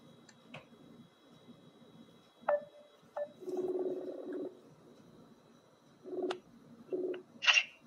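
A phone call is dialed, a few short tones and beeps with brief buzzing ring-like bursts and pauses between them, heard fairly close against a quiet background with faint bird calls.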